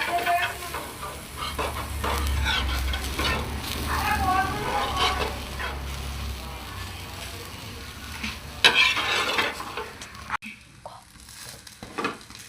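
A masala dosa cooks on a pan with a continuous close sizzle and scraping, stirring sounds. A low hum sits underneath for the first half, and the sizzle thins out toward the end.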